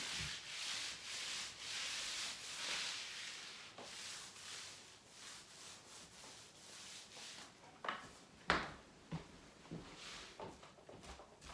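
A paint roller is pushed along an interior wall near the ceiling line, making a faint, soft rolling rasp in repeated strokes, with a few firmer rubs toward the end.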